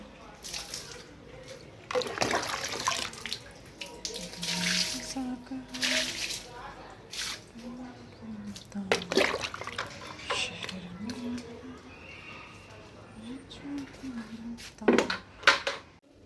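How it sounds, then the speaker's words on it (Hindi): Water from a bucket splashes and swishes across a balcony floor being washed after a storm, in repeated sloshing bursts with scraping and clinks, close by, while someone talks between pours. "तो अब ये मैं धो दूँगी पूरी बालकनी अच्छे से पानी से"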